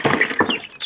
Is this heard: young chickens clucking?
yes